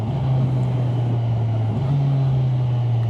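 A 2024 Kawasaki 1000SX sports tourer in sport mode accelerates in third gear, its engine drone steady and close under wind noise, with a slight rise in pitch.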